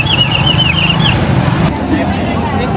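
Busy street traffic during the Jaro fiesta, a steady wash of car, motorcycle and truck engines close by, with a whistle or horn squeal and people talking over it.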